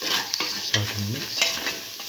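Chopped tomato and mint leaves are stirred with salt in a pan for a black lentil and ash gourd stew. A spoon scrapes in quick, close strokes over a low frying sizzle.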